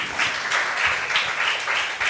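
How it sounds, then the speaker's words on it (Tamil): A congregation at a church Easter service claps in a dense, steady burst of applause that fills the whole moment, loud and close. "நல்ல ஒரு கைத்தட்டு கொடுங்க பார்ப்போம்."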